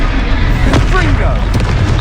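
A loud, deep booming explosion from a Confringo spell fight in the Hogwarts Legacy video game, dense rumbling impact with a sharp burst in the middle and game voices over it.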